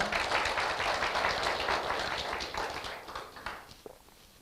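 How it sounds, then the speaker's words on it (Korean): An audience claps together at a leadership academy lecture, a dense wash of applause that starts full and tapers off over a few seconds, with no voices. "박수로 동의해 주시기 바랍니다"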